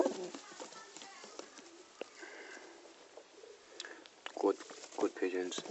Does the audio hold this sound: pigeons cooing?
yes